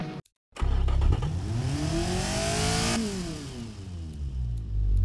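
A car engine built in the simulation game Automation revs up through rising tones, holds near the top, then drops back down. The sound is loud and synthetic, with a brief silent gap at the start.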